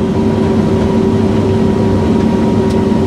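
A Claas Trion combine harvester drives up across a field, its engine a steady, loud, low drone that holds constant without any talk.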